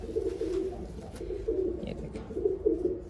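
A long-bodied pigeon coos nearby in repeated low, throaty phrases, each about a second apart, with no other sound competing.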